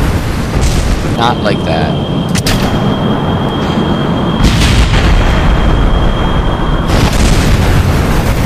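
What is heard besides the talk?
rocket exploding in video game Kerbal Space Program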